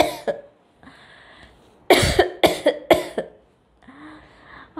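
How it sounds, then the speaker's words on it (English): A short burst of four or five harsh coughs in quick succession, close and loud, with softer vocal sounds before and after. "she woke up in the morning and she started coughing."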